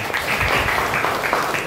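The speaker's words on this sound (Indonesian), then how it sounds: "tepuk tangan untuk kelompok E" A classroom of students applauds for group E during a teacher-training lesson: a short, dense burst of many hands clapping together, steady and fairly close, with no talk over it.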